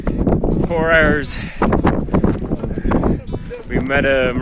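Sheep bleat on a windy Moroccan mountainside, several wavering calls close by, one early and another near the end, mixed with wind noise and people talking.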